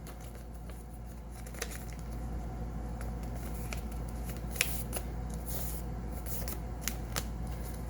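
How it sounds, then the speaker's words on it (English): Paper being folded and creased by hand while making a paper hat, with soft crinkles and sharper crisp snaps scattered over a steady low background hum. "we are going to grab a corner and fold it down to the crease of our paper, right down the center"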